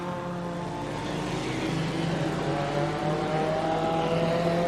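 Junior sedan race cars run at Gympie Speedway, their engines droning and rising in pitch as they accelerate down the back straight, a steady mid-distance roar with no commentary over it.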